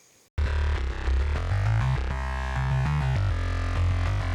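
A gritty saw bass synth layered with a deep sub bass in an electronic track, a dense buzzing low-end tone starting abruptly after a brief near-silence, then holding loud and steady with no voices.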